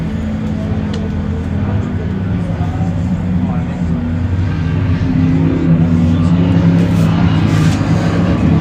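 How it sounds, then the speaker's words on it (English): Off-road comp race trucks roar past the start-finish line at the High Desert 100 in Powell, Wyoming, a steady loud engine drone with a commentator talking over it. "Couple racers coming across the start-finish line."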